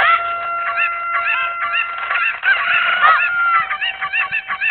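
Chickens in the video game The Legend of Zelda: Ocarina of Time give repeated honking, squawking calls in quick bursts, loud and close with no talk.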